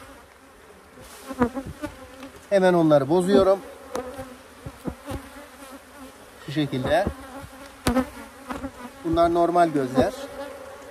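Honey bees swarm and buzz steadily around an opened hive during pre-honey-flow work, with drone brood cells being scraped open on the frame, while someone talks close by over the insect drone.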